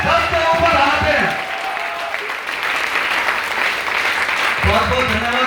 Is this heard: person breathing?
no